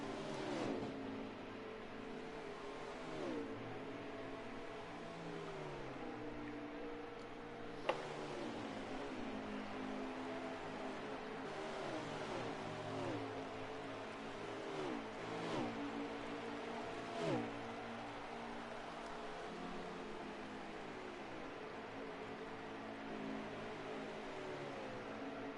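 Xfinity race cars at Dover roar in a continuous, fairly faint wash as engine notes rise and fall while cars sweep past one after another, with no voices.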